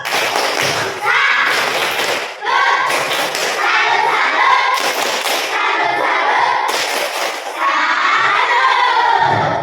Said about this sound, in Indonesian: Kasih tepuk salut untuk Fadil.